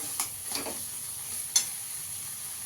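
Pur vora papor filling with paneer frying in a pan: a faint, steady sizzle with a few light clicks of a spoon stirring against the pan.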